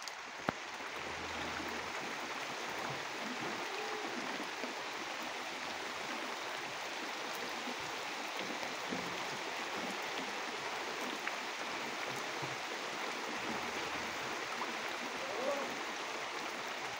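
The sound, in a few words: rain falling outdoors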